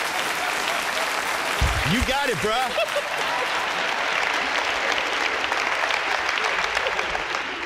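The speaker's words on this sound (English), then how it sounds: "Please give him a big round of applause." A theatre crowd at a magic awards show breaks into a full, sustained round of applause, dense and even throughout, with a voice briefly speaking over it early on.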